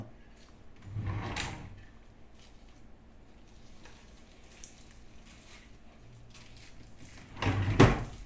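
A kitchen drawer slides open with a short rumbling scrape, then after a quiet stretch slides again with a louder rattling thud, close by with faint background noise.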